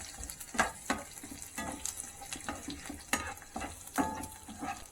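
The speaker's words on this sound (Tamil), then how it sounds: "ஆட் பண்ணிவிட்டு பூண்டோட பச்சை வாசனை போகிற அளவுக்கு நம்ம வந்து ஃப்ரை பண்ணிக்கலாம்" Curry leaves and crushed garlic frying in a pan, a soft, low sizzle broken by irregular clinks and scrapes of a spoon stirring, with no voices.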